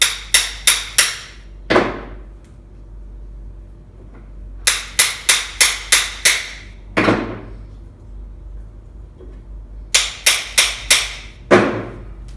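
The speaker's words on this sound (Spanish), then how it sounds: "con un martillo le vamos dando de a poquito y vamos girando el expansor para que no quede agarrado" A hammer taps a pipe expander into a pipe in a welding class, striking sharp, close metallic blows in bursts of four or five quick taps, each burst ending with a heavier ringing hit. The pattern repeats three times, with short pauses between bursts.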